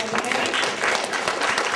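Children at a school Young Authors Night clapping for their parents, a short burst of busy applause from a room of kids with a voice speaking over it.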